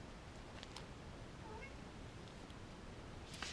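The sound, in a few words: cat meowing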